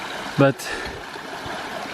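A river stream flowing in the wild during a solo camping hike, a steady broad rush of water with a brief spoken word near the start.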